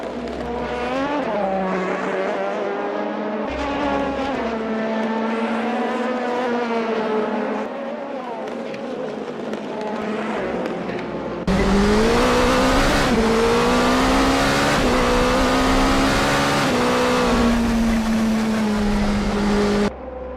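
Race cars in the HoloType sim racing series circle Autopolis, engines wailing at high revs with rising and falling pitch through gear changes, one car trailing another before a louder stretch of simulated racing sound near the end.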